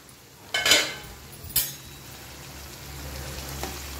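Metal utensil stirring and clinking in a frying pan while cooking lunch, two sharp scrapes close by over a low steady background hum, then a faint tap near the end.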